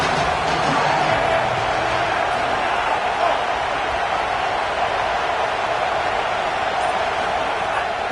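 A football stadium crowd roars steadily during an Auburn Tigers game as the opponent is pinned deep in its own end, a dense, loud wall of cheering and noise held at an even level throughout.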